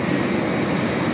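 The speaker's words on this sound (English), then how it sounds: "There's my blower, hair dryer." A hair dryer serves as the blower on a dirtbox forge, giving a steady, loud, close rushing roar of forced air with no breaks across the whole short stretch.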